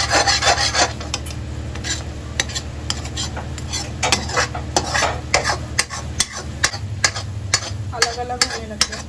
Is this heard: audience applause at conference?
no